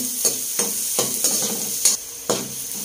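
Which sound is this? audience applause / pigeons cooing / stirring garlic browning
stirring garlic browning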